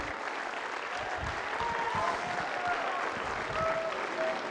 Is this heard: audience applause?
yes